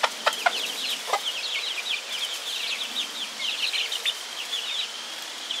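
Chickens cluck in a rapid, chattering series of high calls, fairly close, with a few sharp taps at the start and no talking.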